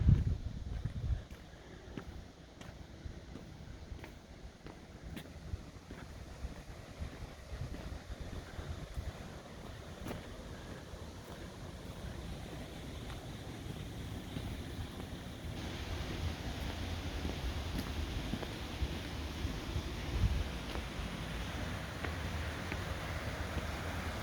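Chopper River flowing near the entrance of the Sachsenburg concentration camp, a steady broadband wash of moving water mixed with wind buffeting the microphone, continuous and fairly close, with no voices.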